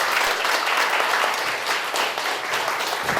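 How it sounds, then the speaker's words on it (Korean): Audience applause welcoming a lecturer to a Korean lecture hall stage, steady and sustained clapping from a crowd for several seconds with no voices over it. "큰 박수 부탁드립니다"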